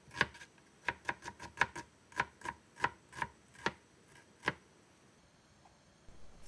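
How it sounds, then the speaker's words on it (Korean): A knife slicing half an onion into thin strips on a cutting board, a quick run of about a dozen crisp, close taps in uneven rhythm that stops short, with no talking. "양파 반 개를 감자 크기와 동일하게 채 썰어주세요."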